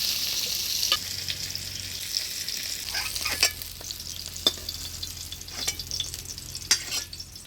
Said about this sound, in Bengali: আলু পটলটা আমি হালকা আছে ভাজে নিলাম।